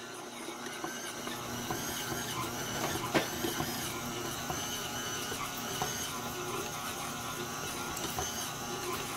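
Stand mixer kneading bread dough on a low speed setting, a steady mechanical whir with faint rhythmic knocking and clatter, continuous and moderately close, no voices.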